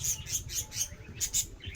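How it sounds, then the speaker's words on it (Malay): Small birds chirp outdoors in a series of short, bright, evenly spaced tweets over a low background murmur, heard close and clear without any voices. "Oh, macam ada burung pun ada."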